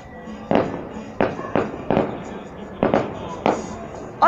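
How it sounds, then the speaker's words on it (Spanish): Fireworks go off at a castle-burning festival in San Miguel Ameyalco, with about seven sharp bangs at uneven intervals. The blasts are moderately distant and ring out over a crowd background. "¡Bomba, bomba!"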